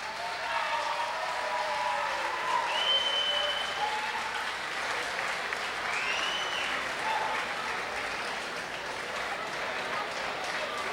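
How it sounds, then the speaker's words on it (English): Audience applause greets a performer at the 1991 Tampa Bay Music Awards, a sustained wash of clapping from a large room lasting many seconds, with a few faint voices and whistles rising above it. "Please, a round of applause."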